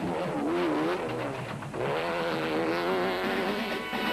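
Rally race cars on the Limpopo 400 route, a steady loud engine drone with shifting revving pitch as cars push hard, continuous throughout without any talk.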